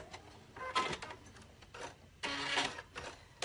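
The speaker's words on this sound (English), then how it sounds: "I'm going to continue sewing on" A sewing machine stitching fabric with a quilting presser foot whirs in two short bursts, a brief run then a longer one, with a faint mechanical rattle between them.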